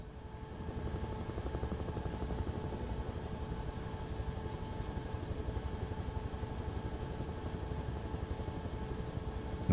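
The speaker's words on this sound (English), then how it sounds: "let's just jump in the helicopter," A helicopter flies in a video game, its rotor beating in a fast, even chop over a steady engine drone that stays constant and moderately close throughout, with no talking.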